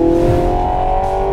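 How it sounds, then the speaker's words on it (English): A 2024 Ford Mustang GT with the 10-speed automatic pulls hard, its V8 revving loudly with a rising tone that dips as an upshift lands, heard close up with no voices. "Barks on that upshift."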